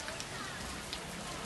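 Heavy rain pours steadily in Banda Aceh during flooding after two days and nights of downpour, a dense, continuous hiss of drops striking surfaces, close and unbroken, with a voice faintly present underneath.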